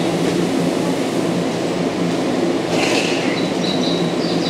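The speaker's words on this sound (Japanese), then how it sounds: "発車いたします。ご注意ください。" A Tokyu 8500 series train departs Shibuya station with a loud, steady rumble of wheels and motors, a high squeal rising near the end over the continuous roar.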